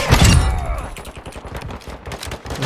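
Rapid automatic gunfire in the shooter game Warzone 2.0, a loud opening burst followed by a steady stream of close, punchy shots with little talk.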